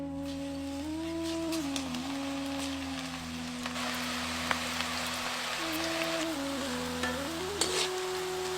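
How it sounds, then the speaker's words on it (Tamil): Soft, steady sizzling of pakoda frying in moderately hot oil, with a faint tonal hum running underneath and a few light clicks. "மிதமான சூடு இருக்கிற எண்ணெயில பக்கோடாவை இப்ப பொரிக்க ஆரம்பிச்சிருவோம்."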